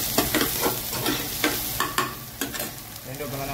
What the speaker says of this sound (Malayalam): അതിലേക്ക് തന്നെ കുറച്ച് പച്ചമുളക് ഇട്ട് കൊടുക്കാം.